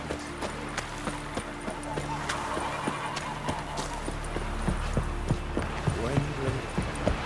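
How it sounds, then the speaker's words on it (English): Horses' hooves clip-clop in a steady rhythm alongside occasional whinnies, set against low background ambience, in the video game The Witcher 3: Wild Hunt, near Novigrad. "Horses."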